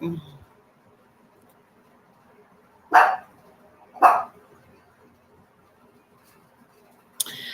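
A dog barks at something out in the street, two sharp, separate barks a second apart with a third starting at the end, against a quiet room.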